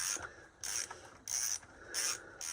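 A ratchet fitted with a 32 mm socket loosens the oil filter housing on a VW Tiguan 2.0 TSI: four close, crisp bursts of rapid clicking separated by short pauses, with no voices.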